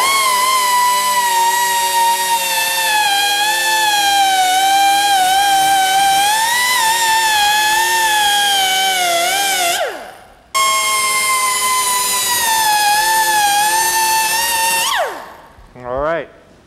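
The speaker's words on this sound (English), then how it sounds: "now the right angle die grinder. And that's what we're going to use to take this edge off" Right angle die grinder taking the edge off fiberglass laid over wood: a loud, steady high-pitched whine running nearly continuously, cutting out briefly near the middle and winding down toward the end.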